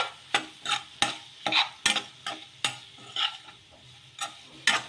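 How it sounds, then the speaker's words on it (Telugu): A rava breakfast mixture is stirred and mixed in a pan, with a spoon giving repeated irregular scraping strokes roughly every half second over a faint sizzle, close and alone. "ఇలా ఇవన్నీ కూడా వేసేసుకొని ఒకసారి బాగా కలిపేసుకోవాలి మొత్తం కలిసేలాగా"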